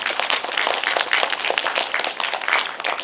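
Audience clapping at a lecture in a cinema hall, a dense, even patter of many hands, steady and moderately loud with no voices over it.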